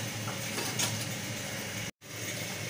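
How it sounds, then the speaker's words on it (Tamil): A kitchen mixer grinder whirs loudly as it grinds pepper, cumin and fennel in its jar, a dense continuous grinding noise that cuts out briefly near the end before resuming. "இப்போ மிக்சி ஜாரில் கொஞ்சோண்டு மிளகு, கொஞ்சோண்டு ஜீரகம், நான் தேங்காய் அரைச்ச மிக்சி ஜாரில் அப்படியே அரைச்சிக்கிறேன்."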